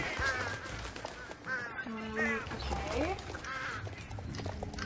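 Flock of birds in the Star Stable Online video game, quacking and cawing calls repeating over a busy game soundscape while a person talks.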